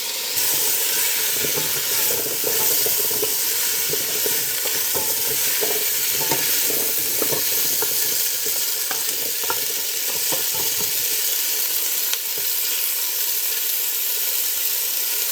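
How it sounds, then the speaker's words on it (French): Onion, garlic, ginger, potatoes and carrots sizzling in a pot, a loud steady hiss of frying with scattered light crackles and occasional stirring scrapes throughout, close and without speech. "j'ai laissé mijoter le tout là, sans rien rajouter, juste avec l'oignon, l'ail, le gingembre, les pommes de terre, les carottes"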